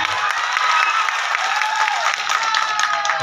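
An audience at a rajmukut theatre show in Dhamdhama, Nalbari, applauds and cheers for a leading actor, a dense, steady wash of clapping and crowd noise filling the whole stretch without a break.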